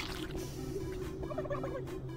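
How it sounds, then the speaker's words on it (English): Turkeys gobble in the video game Doom 3, a burst of warbling gobbles in the middle over steady background game noise, moderately faint. "There's two turkeys!"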